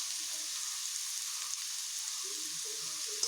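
Potatoes and radish fry together in a pan with a steady, close hiss and sizzle, joined by faint low stirring sounds near the end, with no talk.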